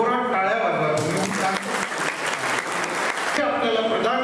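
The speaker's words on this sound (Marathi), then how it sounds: "जोरात टाळ्या वाजवा" A crowd at a foundation gathering breaks into loud applause that swells suddenly and then stops, with a speaker's voice heard before and after.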